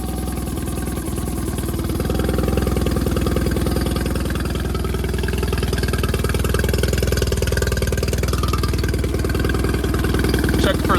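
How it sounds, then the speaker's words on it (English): A Mercury outboard boat motor running close by at a steady idle, its dense putter holding evenly for the whole stretch, with faint voices underneath. "let's go ahead and start the motor up and see what happens"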